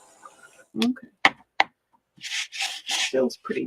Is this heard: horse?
no